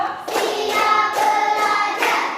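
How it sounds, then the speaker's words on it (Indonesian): A group claps together in a counted pattern during a teachers' coaching session in a classroom, sounding as loud, dense, continuous applause that swells in a few waves, near and without talk. "Tepuk 1, tepuk 2, tepuk 3, tepuk 4, tepuk 5."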